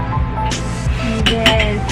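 A spoon clinks against a cup while stirring coffee and water, giving several bright, close taps and rattles in quick succession with no speech.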